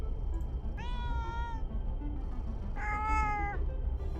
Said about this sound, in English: You can pet the cat.